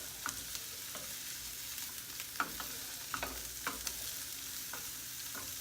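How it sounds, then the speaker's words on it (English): Vegetables and asparagus sizzle in a pan coated with cooking spray over medium heat, a steady close frying hiss broken by occasional stirring clicks and scrapes, with no talking. "these vegetables are going to be on top of the asparagus that we're grilling"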